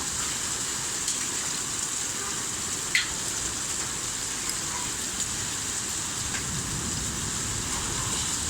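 Rain mixed with hail pelts the city of Buenos Aires in an October storm, a loud steady rushing downpour with scattered sharper ticks of hailstones striking surfaces nearby, no speech.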